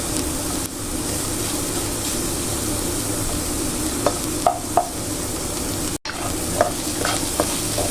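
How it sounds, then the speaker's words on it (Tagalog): Garlic and onion sautéing in a pan, a steady sizzle while being stirred, with a few light utensil clinks and taps near the end. "gisa-gisa lang guys hanggang sa lumabas yung aromatics ng ating bawang at sibuyas"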